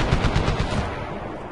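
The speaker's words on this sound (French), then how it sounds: "Donc on va devoir faire taire cette mitrailleuse, je suppose." Rapid machine gun fire in the video game Medal of Honor, a quick rattling burst of close, loud shots that fades into a trailing echo.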